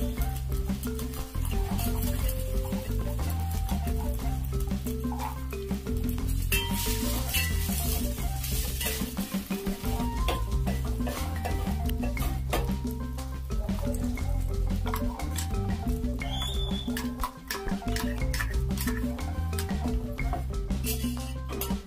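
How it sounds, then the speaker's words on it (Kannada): Green peas and freshly ground masala fry in a little oil for a veg thali, a steady sizzle broken by scraping stirs of a spoon against the pan, close and continuous beneath a layer of background music, with no talking. "ಬಟಾಣಿ ಸೇರಿಸ್ಕೊಂಡು ಒಂದು ಸ್ವಲ್ಪ ಎಣ್ಣೆಲಿ ಫ್ರೈ ಮಾಡಿ"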